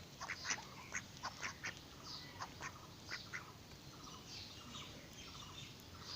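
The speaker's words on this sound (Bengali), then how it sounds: "তো দেখতে পাচ্ছেন হাঁস রয়েছে" Ducks quack in short, repeated bursts at moderate distance, mixed with lighter chirping bird calls over a steady outdoor background, with no one talking.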